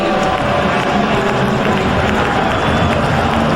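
A big stadium crowd roars steadily at a Philadelphia Eagles home football game against the St. Louis Rams in 2001, a thick, continuous wall of noise with no breaks.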